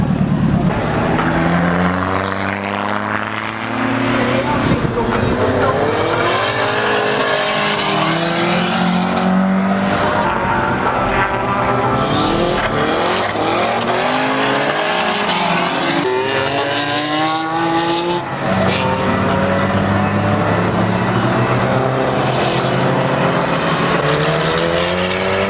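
A loud car engine with a lightweight flywheel revs repeatedly, the pitch climbing and dropping in throaty sweeps, close and continuous throughout.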